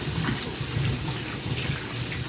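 Potatoes are rinsed under a running kitchen tap, water pouring and splashing steadily into a bowl close by, with no talk.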